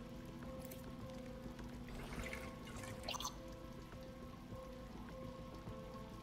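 Water trickles and drips steadily from a bullet-riddled aquarium in the game Bright Paw, a continuous light patter over a low hum, with brief splashy bursts near the middle.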